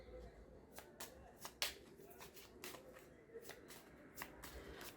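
A Gypsy tarot deck being shuffled by hand, with repeated crisp riffling flicks and soft card slaps at close range over a low background hum, with a few sharper snaps standing out.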